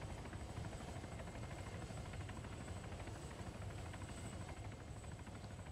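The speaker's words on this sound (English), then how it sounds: "It seems the helicopter is having problems with the truck being in the way." Helicopter in a military combat video game, a steady, dense rotor and engine drone that stays loud and constant throughout, with no voices over it.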